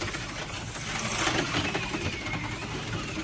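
Electric slot cars race around a track, a close, busy buzzing whir of small motors that swells and fades slightly as the cars pass, with no talk.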